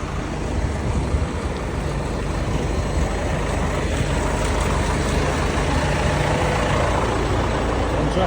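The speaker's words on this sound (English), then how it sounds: "Tractor." Tractor engines idle on a London street where hundreds of farmers have gathered. A steady, loud diesel rumble fills the scene without pause, with broad traffic-like noise and no clear voices.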